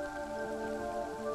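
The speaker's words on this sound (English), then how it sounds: "It is raining." Rain falls in the pixel-art video game Kingdom Two Crowns as a soft, steady patter mixed with a sustained tonal music bed, fairly quiet and unbroken, with no talking.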